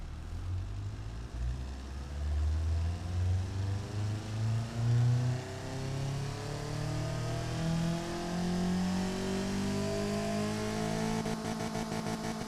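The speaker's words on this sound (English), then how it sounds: "Let's see what a 3-liter inline 4 sounds like." A 3-liter inline-four car engine in the Automation driving simulation revs repeatedly, its pitch climbing in sweeps as it builds and drops, loud and close, with no talking.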